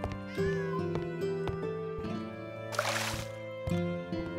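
A cat meows a few times in the video game Travellers Rest, clear tonal calls over looping game music and ambient effects, with a short watery splash partway through.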